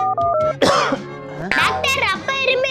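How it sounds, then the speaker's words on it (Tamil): A man coughs loudly and close by, two or three harsh bursts mixed with voiced, strained sounds. "அப்பா இருமி முடியாத இருக்காரு"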